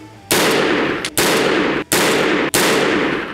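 Four loud, close gunshots from an AR-15 style rifle with a 16-inch barrel, fired at a slow, fairly even pace. Each sharp crack is followed by a long, reverberant tail that fills the gap before the next shot.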